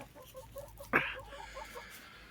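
A single short hen cluck or squawk rings out near the middle of a quiet henhouse, where eggs lie in straw, over faint background noise.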